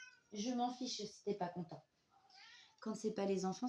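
A house cat meows clearly in the pause between a woman's stretches of speech in French, a single drawn-out, nearby meow.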